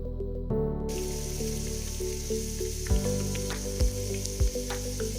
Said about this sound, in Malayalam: അടുത്തതായിട്ട് പനീർ പോലെ തന്നെ നമുക്ക് സോയ ഫ്രൈ ചെയ്തെടുക്കാം.